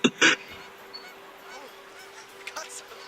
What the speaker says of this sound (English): Apparently, catching a fish makes birds just go insane.